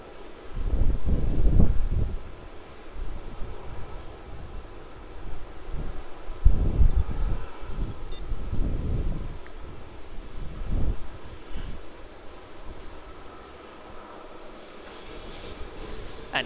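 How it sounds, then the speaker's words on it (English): Air New Zealand airliner taxiing into Terminal 2 at Melbourne Airport after arriving from Auckland, a low, steady jet engine rumble with surging swells and wind buffeting the microphone. "And there's Air New Zealand taxiing into Terminal 2."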